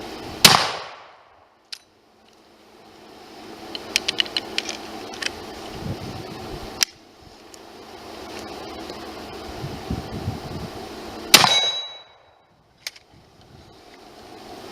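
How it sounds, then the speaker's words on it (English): A steel plate target hit by a bullet from a Martini Henry or Sharps .50 carbine: sharp, ringing metallic clanks stand out above a low background hum, with a few fainter clicks in between. "You heard the sound of plate being hit."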